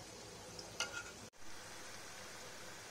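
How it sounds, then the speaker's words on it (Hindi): Corn pakoras fry in hot oil with a faint, steady sizzle. A brief clink sounds partway through and a short dip breaks the hiss. "पकौड़े हमारे दोनों तरफ से अच्छी तरह फ्राई हो चुके हैं"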